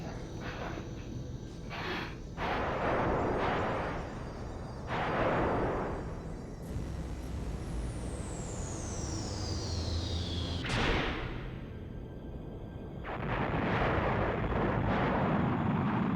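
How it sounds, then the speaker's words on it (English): Booming explosions in the Sega Saturn game Panzer Dragoon, several heavy blasts spaced a few seconds apart with a long descending whistle between them, loud and close over a steady rumbling backdrop. "That's a crusty explosion."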